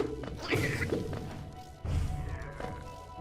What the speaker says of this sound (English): And get hit by another explosion.